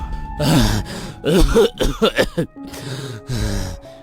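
A man coughs and clears his throat in harsh, rapid bursts broken by gasping breaths, close and loud, with short pauses between fits.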